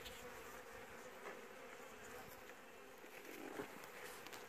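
Honey bees buzz steadily inside an opened wooden beehive during winter preparation, a dense, continuous hum at moderate, even loudness with no voices.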